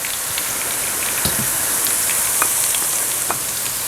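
Ginger and garlic sauté with onions already browned to golden, making a dense, even sizzle like steady rain. Faint scattered pops and ticks sit on top of the hiss, with no voices.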